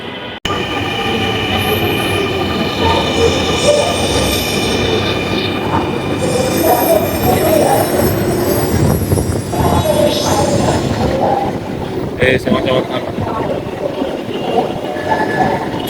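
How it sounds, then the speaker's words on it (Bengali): A metro rail train runs between Motijheel and Mirpur, with a loud, continuous rumble of rolling carriages and high, sustained wheel squeals rising and fading over it, plus a few sharp clatters. "এই প্রথম মেট্রো রেলে চড়বো"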